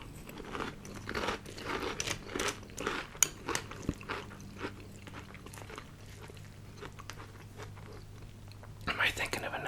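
Close, crisp crunching and chewing of Captain Crunch cereal with blueberries at breakfast, steady bites with moist mouth sounds throughout and a louder crunchy burst near the end.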